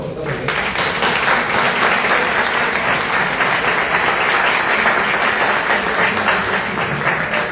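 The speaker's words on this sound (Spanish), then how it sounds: "Un aplauso a vosotros." A crowd applauds at a public forum on keeping Alicante clean and opposing a garbage tax: dense, loud, steady clapping that fills the whole stretch without a break.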